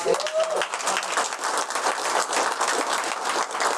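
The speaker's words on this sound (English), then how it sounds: "Let's give these guys a round of applause." An audience at a panel discussion applauds steadily, dense clapping filling the whole stretch, with a brief voice at the very start.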